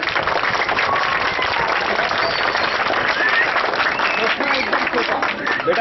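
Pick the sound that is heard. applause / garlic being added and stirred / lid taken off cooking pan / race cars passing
applause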